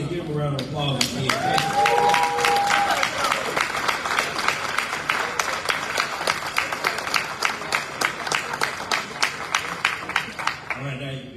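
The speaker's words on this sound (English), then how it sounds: "Y'all stand up again and give them a round of applause again" A standing crowd of municipal officials at a North Carolina gathering claps loudly and continuously, a dense wash of hands that gradually breaks into sparser individual claps, with voices and a brief call heard at the start.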